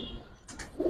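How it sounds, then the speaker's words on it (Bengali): A napta pigeon gives a brief, soft coo, close by and short, over light background noise. "দুই পেয়ার নাপ্তা কবুতর"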